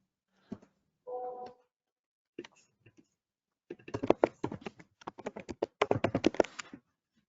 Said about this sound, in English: Are you typing something?